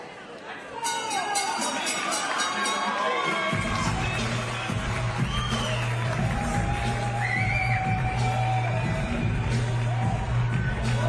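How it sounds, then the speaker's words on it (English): A crowd at a boxing event in Montreal's Théâtre Saint-Denis breaks into a loud, sustained ovation with cheering and whistles, rising after a quieter start and carrying on under an announcer's voice. "A big ovation from the crowd here at the Théâtre Saint-Denis in downtown Montreal"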